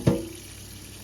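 Short burst of cold water from a tap, a brief splash at the start that settles into a faint, steady trickle, close and alone.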